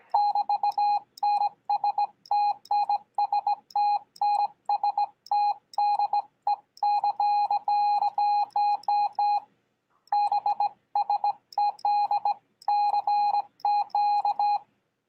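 Morse code sent on a bug key at its heaviest setting 4 comes as a steady, mid-pitched beeping tone keyed in quick dots and longer dashes, grouped into bursts with short pauses between them.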